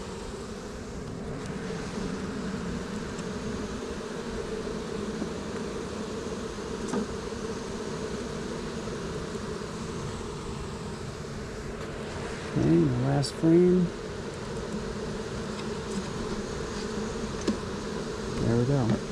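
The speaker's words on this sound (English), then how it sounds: "you see that mass of bees moving down in there. They're already climbing up the frames" Honey bees from a package swarm buzzing steadily as they are installed and climb up hive frames, a close continuous hum with a few brief knocks of the frames, a voice talking briefly over it.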